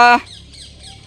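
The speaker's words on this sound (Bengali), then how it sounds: "উট পাখি এক জায়গায় জড়ো হয়ে গেছে, আপনারা দেখতে পাচ্ছেন।" Ostriches gathered in one spot let out a loud, harsh squawk right up close, cut short, then a second call begins just as the clip ends.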